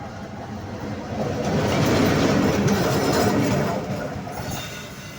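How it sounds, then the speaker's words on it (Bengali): A railway locomotive rolls past close by, a loud, continuous rumble and rattle that swells to a peak in the middle and then eases off slightly as it moves away. "এই রেল ইঞ্জিন যাবে, চলে গেল"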